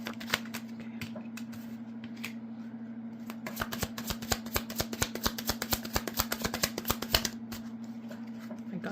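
Tarot cards shuffled by hand in a rapid run of crisp riffling flicks, building to a dense, steady patter in the middle and stopping abruptly near the end, over a constant low electrical hum.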